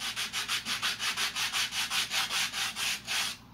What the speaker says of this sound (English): so I'm just going to take this sandpaper